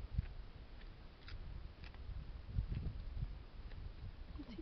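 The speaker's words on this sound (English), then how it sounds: "What's he chewing on? Skin. Sounds really hard." Male lion chewing on tough eland skin, a faint, low, crunching gnaw with a few heavier tearing bites clustered midway over quiet outdoor background.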